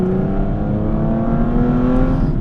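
An Aston Martin V12 Vantage S fitted with the AMR Power Pack sings under load, its V12 holding a loud, smooth, rising drone close by for a couple of seconds with no talk over it.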